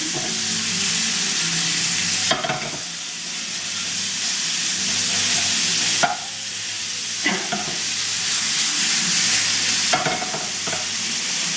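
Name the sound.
mince meat frying and stirred in pan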